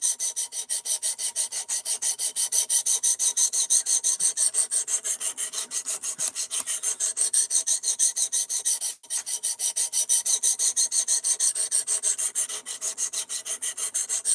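A knife is sharpened on a guided sharpening system, and steady, rapid rasping strokes of the stone on the blade repeat without a break for the whole stretch, close and fairly loud, with no voices.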